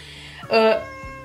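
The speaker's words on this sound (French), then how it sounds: "c'est le chat" A house cat lets out a single short meow, close and clear, while someone speaks French around it in a quiet room.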